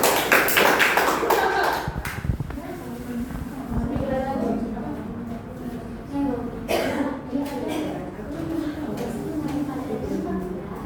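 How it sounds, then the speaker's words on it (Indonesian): A classroom group claps hands in a short burst of scattered taps at the start, then a teacher's voice carries on over faint murmur and a few later claps. "Kita kasih apresiasi, tepuk tangannya."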